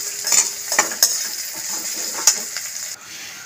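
Flat beans and lentil bori stir-fried in a pan, a continuous close sizzle broken by a few sharp scrapes and taps of the spatula.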